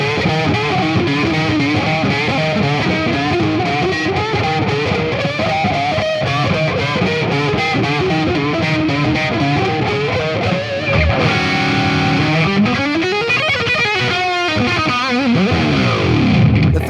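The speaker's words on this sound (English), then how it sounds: "It's kind of like a flanger sound without a flanger, but I do it with my pick and I make harmonics." Distorted electric guitar played with pick harmonics, the pick sliding along the neck so the overtones sweep up and down in a flanger-like whoosh, loud and continuous with no talking.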